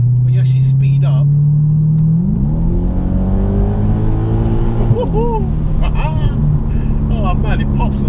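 Audi S5 4.2 V8 Quattro accelerating from inside the car, engine note rising and shifting through gears with a couple of brief exhaust pops near the end, steady and fairly loud throughout.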